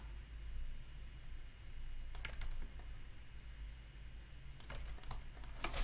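A few sharp clicks of computer keyboard keys being pressed while working on a PowerPoint design, with short bursts near the end over a steady low hum.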